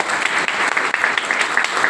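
Applause from an audience at a Mi Vapi GTS event, many hands clapping steadily and densely for the full two seconds, close and loud with no break.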